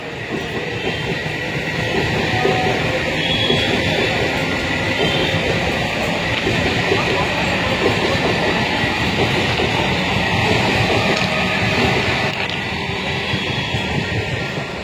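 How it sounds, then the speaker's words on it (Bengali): A train pulling out of Kanchrapara station, a loud steady rumble and rattle of rail wagons heard from on board throughout. "ট্রেন আপাতত কাঁচরাপাড়া ছাড়লো"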